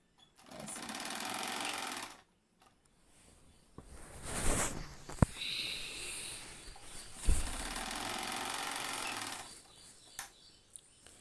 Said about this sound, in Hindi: और सिलाई लगा देना है यहाँ पर